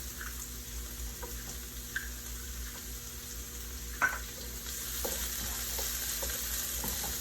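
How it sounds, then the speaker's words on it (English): Green onion and baby bella mushrooms fry in oil in a pan for curry fried rice, giving a continuous moderate sizzle with occasional utensil taps and stirring scrapes, and no talking. "Then I'm going to throw my baby bella mushrooms right up in here."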